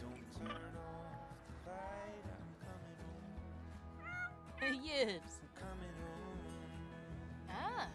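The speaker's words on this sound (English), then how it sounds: "She's a cat." A cat in The Sims meows several times, short chirpy calls with some longer drawn-out ones spaced across the moment, while a person talks alongside.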